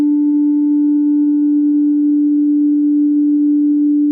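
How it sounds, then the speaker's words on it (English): A steady sine tone run through Maximus 11 saturation, holding one unwavering low pitch with faint added harmonics above it, loud and constant throughout with no other sounds. "So this type of distortion would be one you would experiment with and find the sweet spot"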